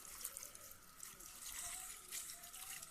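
Dirty potatoes being rinsed by hand in water, a quiet continuous splashing and trickling at close range, faint throughout with no talk.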